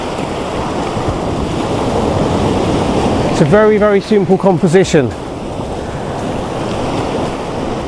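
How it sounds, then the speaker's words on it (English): Ocean waves break over a small cluster of rocks on a beach, a steady roar of surf and wind throughout, with someone speaking briefly in the middle. "There's this little cluster of rocks and the waves are breaking over them."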